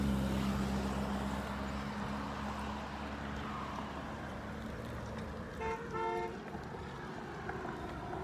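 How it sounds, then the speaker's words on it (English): Car horns honk in a small Michigan town, a couple of short toots heard at a moderate distance over steady street and traffic rumble. "Lots of honking in this town."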